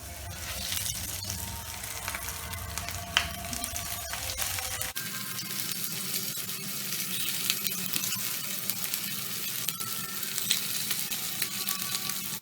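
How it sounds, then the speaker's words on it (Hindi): Semolina-coated bangda mackerel fish frying in smoking-hot oil over a high gas flame, a loud, continuous crackling sizzle that holds steady throughout, shifting slightly partway as the fish settles in the pan. "देखिए तेल गरम हो गया है, धुआं निकलने लगा है। अब हम फिश को डालेंगे।"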